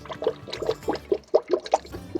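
Sparkling water glugging into a Toyota Landcruiser radiator during filling, with a run of uneven gurgling pulses and splashes up close, steady and moderately loud with no voices.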